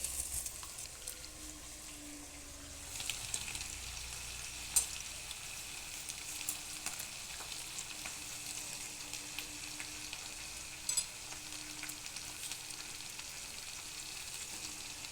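Mixed vegetable curry of potato, brinjal and soya chunks cooking in a pan after water is poured in, a steady soft sizzling hiss that swells slightly after a few seconds, close but quiet, with no talking.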